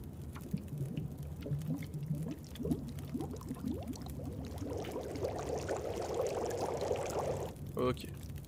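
In The Long Dark, a litre of melted snow is set to boil, giving soft pouring and bubbling that swells in the second half under a voice, ending with a brief clatter.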